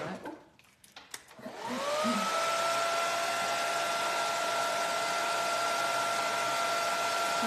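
After a few faint clicks, a heat tool whirs on and blows steadily with a loud, even hiss and high whine while drying red stencil paint on a sign.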